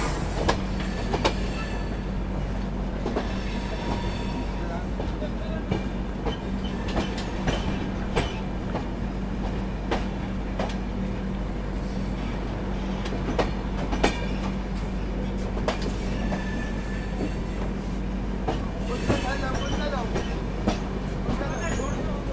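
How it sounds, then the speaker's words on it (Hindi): Goa Express pulling out of Manmad, wheels beating a steady clickety-clack with a constant low rumble of the moving coaches, voices talking intermittently over the rolling noise. "ट्रेन मनमाड से डिपार्चर लेती है"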